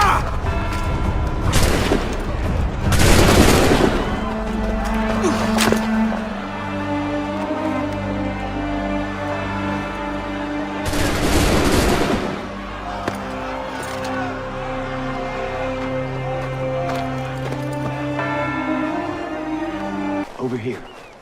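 Musket volleys in Assassin's Creed 3: several loud booming bursts of massed gunfire spaced across the stretch, with voiced dialogue and background score running between and under them.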